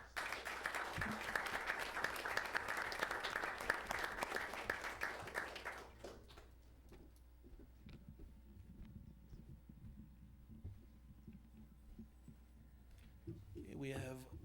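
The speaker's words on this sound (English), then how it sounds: "one more round of applause" Audience applause at a city council meeting, a dense burst of many hands clapping for about six seconds, then fading into quiet room murmur, with a brief rustle near the end.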